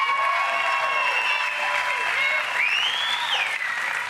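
A rally crowd applauds loudly and steadily in a dense wash of clapping, with cheers and whistles rising over it and some speech mixed in.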